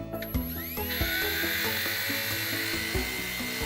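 A small Eachine E119 flybarless RC helicopter spins up on throttle, its motor whine rising sharply in pitch and then holding a high, steady buzz with faint mechanical clicks, close by.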